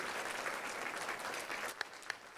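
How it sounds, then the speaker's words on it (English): Pageant audience at the 2024 Miss Dale Fall Festival Queen Pageant applauding as contestants leave the stage: steady, moderately distant clapping with a couple of sharper individual claps near the end. "give them a huge round of applause as they do so"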